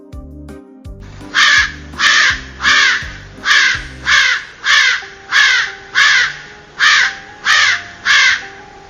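A raven caws repeatedly in a steady rhythm, about a dozen loud, harsh croaks evenly spaced and close.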